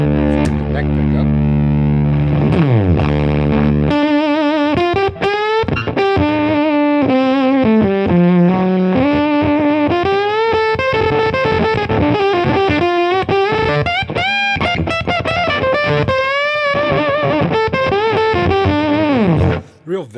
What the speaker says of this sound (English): Velcro, sticky fuzz kind of sound.